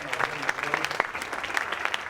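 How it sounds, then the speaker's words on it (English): Audience members at a fall preservice session give a short, faint round of scattered, distinct handclaps. "Give him a round of applause"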